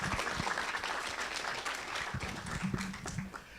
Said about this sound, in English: So let's welcome Shon with a big round of applause.